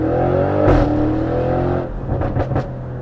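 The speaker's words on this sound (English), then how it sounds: "I just can't get enough of throttling the pedal" A 730 bhp Audi RS6 engine revs hard under throttle, a loud deep drone that swells and then fades as the car pulls away, with faint whooshes near the end.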